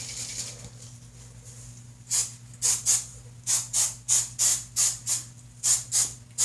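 Hairspray from a shaken can misted lightly all around a retro slicked-back undercut, heard as about ten short, loud hissing bursts in a steady rhythm, close up, after a quiet stretch with a low hum.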